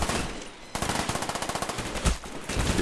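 Uzi submachine gun fire in the video game Call of Duty: Black Ops, loud rapid automatic bursts with a rattling rhythm, a brief pause, then another burst, with no talking.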